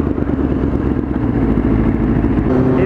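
A motorcycle rides along a road, its engine a steady mid-pitched drone with some clatter, close and continuous for a few seconds.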